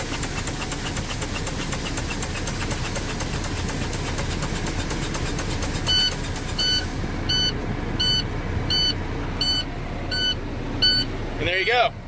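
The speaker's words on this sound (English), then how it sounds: "So the low pressure alarm works." A truck's low air pressure alarm beeps during an air brake test, a fast, regular series of short electronic beeps over the low rumble of the idling engine. The beeping starts partway through, and a voice speaks over it.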